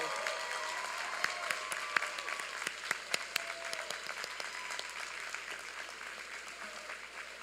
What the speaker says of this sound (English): please stand as we give you a round of applause and celebrate with you